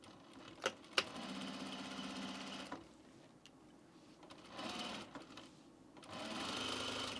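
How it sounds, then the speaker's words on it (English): A sewing machine stitching fabric for men's pants runs in short bursts of fast mechanical whirring, broken by pauses and a couple of sharp clicks, close and fairly quiet with no talking. "I'm going to sew this down."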